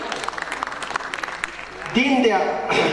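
A voice speaks over scattered clapping at first at a literary awards ceremony, then a loud wave of audience applause swells up and carries on to the end.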